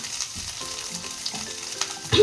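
Mustard seeds for a tempering crackle and sizzle in hot oil, a close, steady frying hiss with scattered small pops, heard on its own without talk.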